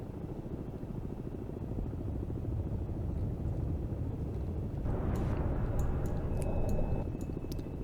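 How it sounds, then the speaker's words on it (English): A helicopter overhead in the naval submarine game Cold Waters gives a steady rhythmic rotor thump and rumble that grows slightly heavier partway through. Faint ticks sound alongside it, with no talking. "Helicopter overhead."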